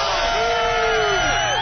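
Crowd of about 40 to 50 Boston fans cheering, loud and close, with whoops and shouted voices rising and overlapping in a continuous roar.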